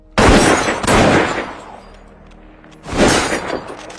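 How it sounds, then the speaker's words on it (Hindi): Two loud, sharp bursts of gunfire, one at the start and another a few seconds later, separated by a decaying echo. "तभी अचानक एक गोली चलने की आवाज आई"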